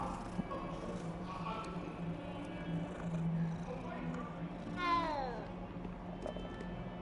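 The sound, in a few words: cat meowing in Hogwarts Legacy video game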